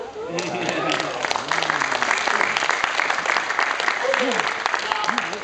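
Audience applause for a jazz musician, a steady dense clatter of clapping held throughout, with voices and a pitched tone or melody faintly running underneath.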